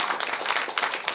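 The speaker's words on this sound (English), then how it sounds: "They were clapping because you're here today, although you fell." An audience at an eldercare gathering claps in a dense, steady patter of applause from many hands, moderately close and continuous.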